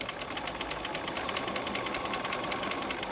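A sewing machine stitches piping on a V-neck garment with a shortened stitch length, its needle chattering in a fast, even mechanical rhythm close by, with no voices.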